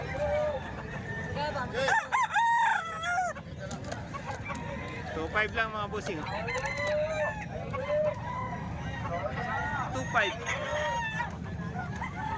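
Roosters crow repeatedly with rising, drawn-out calls over steady market bustle at a butcher's stall, while someone talks throughout near the microphone.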